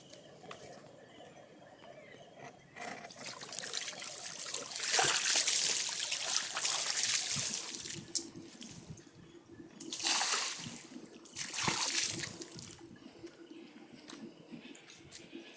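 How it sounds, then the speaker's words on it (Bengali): Plain water splashed and poured over the front steps of a house in a quiet early morning, with swelling bursts of gushing and trickling water between calmer stretches. "তাই এমনি সাদা জল দিয়ে আমি আমার বাড়ির সামনে এই যে সিঁড়িগুলো আছে এইগুলো জল দিয়ে ধুয়ে নিচ্ছি"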